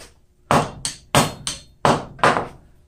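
A blacksmith hammers a forged steel knot sculpture, tightening it: five heavy, ringing blows land at an uneven pace, close and loud, each fading quickly before the next strike.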